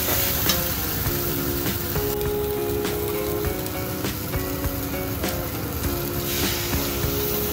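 Potato and pointed gourd curry with ginger paste being stirred in a pan, a steady close sizzle with repeated scraping and clinking strokes of the spoon throughout, no talk.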